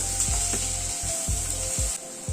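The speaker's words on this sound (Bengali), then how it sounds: "পেঁয়াজটা আলুর সাথে মিনিট 2 মতো একটু নাড়াচাড়া করে নিলাম।" Onions and potatoes sizzle in a pan while a utensil stirs them, scraping in a steady rhythm of strokes over the constant frying hiss, close and clear.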